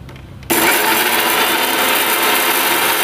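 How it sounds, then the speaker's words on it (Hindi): An electric grinder pulverizes lightly roasted coriander, cumin, fenugreek, fennel and ajwain for mango pickle. It whirs to life abruptly after a brief quiet moment and then holds a loud, steady grinding roar, with no speech. "भूने थे उसे हम ग्राइंड कर लेते हैं।"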